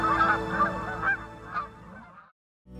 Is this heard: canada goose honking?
yes